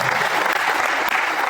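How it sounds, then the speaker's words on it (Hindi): An indoor audience at a promotional gathering claps loudly and continuously in a dense, steady wash of applause. "तो एक बार सभी जोरदार ताली बजाएं सर के लिए।"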